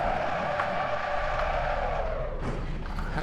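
A race car in Assetto Corsa skids at around 110 miles an hour, engine roaring steadily while tires squeal and scrub loudly, with a brief shift in tone near the end.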